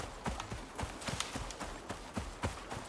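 Horse hooves clip-clop in the survival game Icarus, a steady rhythmic trot of close, distinct thuds running throughout.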